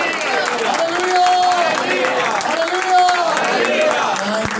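A worship crowd claps and cheers in welcome for Reverend Noel Premnath, a loud, sustained wash of applause blended with voices and sung or held tones throughout.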